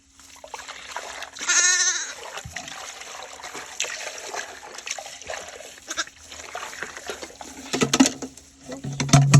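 A sheep lets out one clear, close bleat early on, with a farm setting behind it: trickling and splashing water, scattered knocks and a low hum, and a louder clatter near the end.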